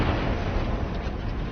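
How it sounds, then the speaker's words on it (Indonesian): A landmine detonates in an action film, a dense, loud blast of rumbling roar that fills the whole stretch without letup, heavy in the low end. "sebelum ranjau yang ia injak meledak"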